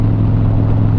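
Steady, loud motorcycle engine drone with a strong low hum, running continuously without pauses or talk.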